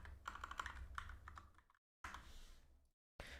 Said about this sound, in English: So let me just type that in.